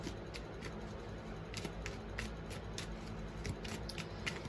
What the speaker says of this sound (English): I'm going to get a couple cards from this deck of cards that I made